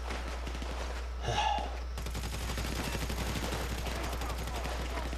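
Enemy gunfire in Grand Theft Auto 5, rapid automatic bursts crackling continuously at low level during a shootout, with a short louder burst early on and a steady hum underneath.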